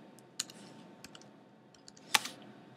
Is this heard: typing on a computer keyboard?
yes